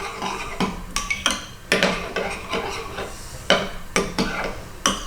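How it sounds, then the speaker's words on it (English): A spoon scrapes and knocks around a dish of vegan mac and cheese, giving irregular clinks and scraping strokes over a soft background, close and fairly quiet. "just give that a bit of a stir"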